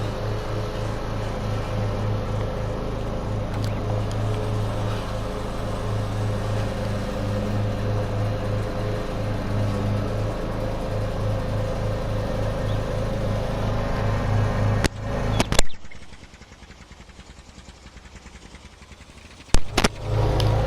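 An old truck engine idles loudly and steadily up close with a deep, chugging, tractor-like hum, then cuts off abruptly near the end, leaving quieter handling noises before a brief restart of sound.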